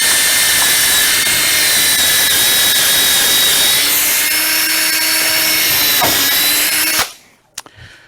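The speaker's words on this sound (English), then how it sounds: "So we'll go ahead and drill this one out." Power drill boring into a wooden cornhole board leg, a loud steady whine that climbs in pitch over about seven seconds, then cuts off abruptly, leaving a couple of faint knocks.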